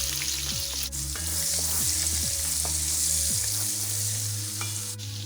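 Onions frying in a pot for party jollof rice give a loud, steady sizzle close by, with occasional stirring and clinks of a utensil against the pot, and no talk.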